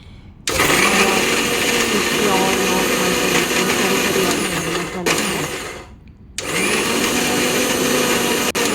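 A mixer grinder coarsely grinds masala for chicken, its loud whirring motor running about five seconds, winding down briefly, then starting up again at full, steady whine, up close.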